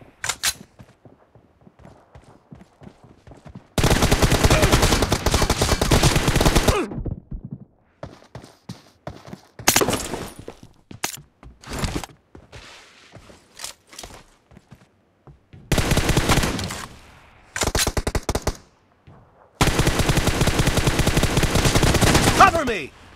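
Bursts of M416 automatic rifle fire in a 1v1 video game match, several sustained loud volleys separated by short gaps with scattered single shots and clicks between them.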